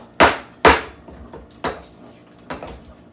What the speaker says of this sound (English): we'll start the mashing process first with the cream cheese itself